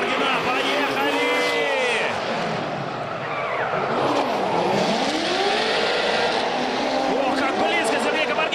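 Several drift cars run in tandem on a night track, a Corvette among them, their engines roaring and revving hard with sustained tire squeal and skidding throughout, loud and close, with a commentator talking over it.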